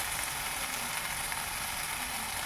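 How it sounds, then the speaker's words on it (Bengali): Rice frying in a pan with turmeric and salt makes a steady, even sizzle throughout, close and moderately loud with no voices. "হলুদ গুঁড়ো দিয়ে আমি চালটাকে ভেজে নেব।"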